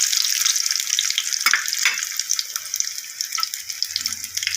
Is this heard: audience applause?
no